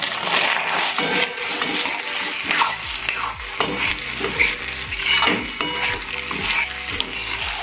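A spoon scrapes and stirs through a sizzling pan of Maggi manchurian as chopped green onion is mixed in, with loud, rhythmic clanks of metal on the pan over the steady frying hiss.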